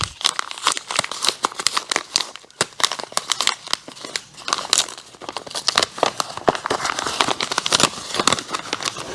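Paper envelope being torn and opened, dense crinkling and ripping of paper with rapid crackles throughout, close and fairly loud, no talking.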